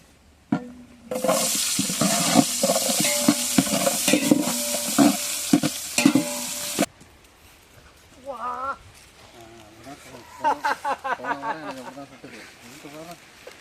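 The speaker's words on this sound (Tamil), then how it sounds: "எண்ணெய் நல்லா காஞ்சிருச்சு. இப்போ பட்டை எல்லாத்தையும் போட்டுக்கலாம். இப்போ வெங்காயம் போடுறோம்." Cinnamon and onions hit hot oil for a village-style chicken biryani with a loud, dense sizzle and stirring clatter for several seconds. The sizzle then drops away, and people talk over faint background noise.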